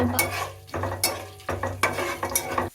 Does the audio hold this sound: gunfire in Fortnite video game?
no